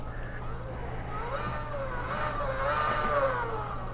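A race car engine in a racing simulator played through a VR headset revs and shifts pitch in rising and falling sweeps. It sits under a steady background hum at a moderate level.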